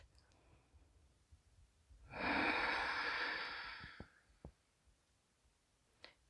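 During a gentle yoga practice, a single long, breathy exhale rushes out for about two seconds, close and fairly loud, then fades, followed by a few faint clicks in a quiet room.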